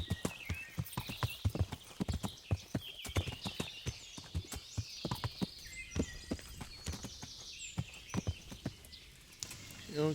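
A horse's hooves clip-clop steadily and close by in the medieval video game Kingdom Come: Deliverance, with a brief whinny and someone talking over the repeated rhythmic hoofbeats.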